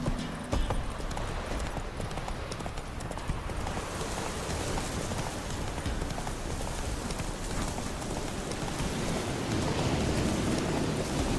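Hooves of the horse Roach from The Witcher 3 clopping steadily along over a wash of rain-like ambient noise, continuous and fairly close throughout.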